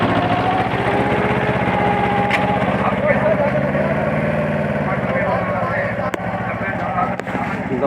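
A Mahindra 245 DI 4x4 mini tractor engine runs steadily and loudly at close range, a continuous diesel drone throughout with a couple of faint clicks near the end.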